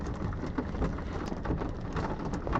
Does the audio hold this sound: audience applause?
no